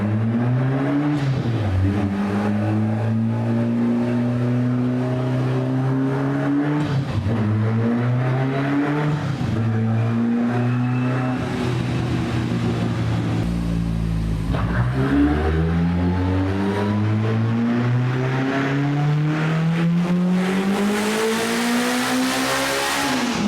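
A tuned Honda K-swapped MR2 with a sequential transmission and Haltech engine management revs hard through the gears, loud and close, its engine note climbing repeatedly and dropping sharply at each quick upshift.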